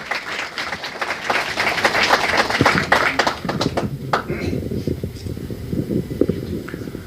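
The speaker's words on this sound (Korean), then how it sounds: "여러분들 신평 변호사님을 박수로 환영해 주시기 바랍니다." Audience applause at a book launch event welcoming a lawyer to the stage, a dense burst of clapping that fades after a few seconds into scattered claps and room noise.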